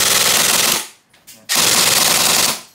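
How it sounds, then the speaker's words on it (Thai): Two loud bursts from a modified E&C 603 airsoft BB gun, full-auto rattling fire lasting under a second, then a brief pause with faint clicks, and a longer burst of about a second, close and dominant with no talk. "ปืนแรงให้ยิงเป็นชุดนะครับ"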